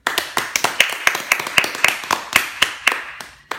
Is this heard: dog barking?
no